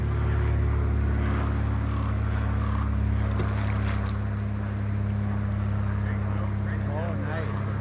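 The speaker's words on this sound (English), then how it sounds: "See the boat." A motorboat running on the Kenai River in Alaska during salmon fishing, a steady low engine drone that fills the whole stretch, with voices faintly over it.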